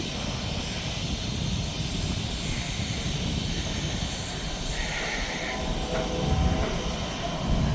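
An idling train locomotive gives a continuous rumbling drone while its air brake system charges, with a steady hiss of air layered over the engine and no speech.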